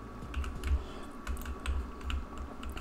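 Quick clicks of a computer mouse or keyboard during a Roblox game, a steady run of light, close taps several per second over a low hum, with no voices.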